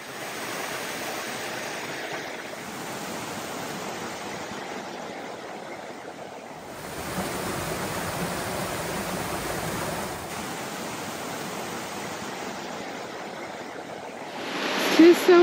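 Water flows steadily in a stream beside a mountain trail on the Valley Way route to Mount Madison, a broad continuous rush that swells slightly midway, with no talk over it.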